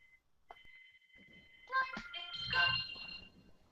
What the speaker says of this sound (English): What the heck was that? Oh, that was my phone.